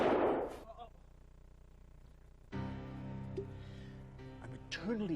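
Gunfire from the video game Mad Dog 2: a sharp, loud burst at the very start that fades into quiet game ambience, followed by a muffled rumbling bed and brief talk near the end.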